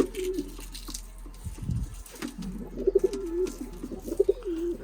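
Pigeons coo in a low, throaty rhythm near a nest with newly hatched chicks, in soft rolling bursts that repeat toward the end, over quiet background hum with a brief rustle partway through.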